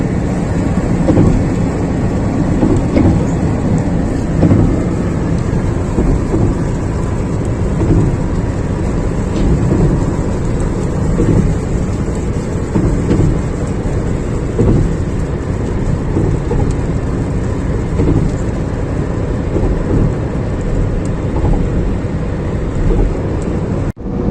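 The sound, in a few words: rain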